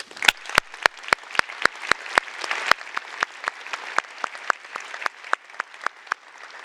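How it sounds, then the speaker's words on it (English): Steady audience applause at an opening ceremony honouring Professor Oki, a close run of sharp individual claps in an even rhythm over a softer crowd wash, sustained throughout. "I think we should give Professor Oki an applause."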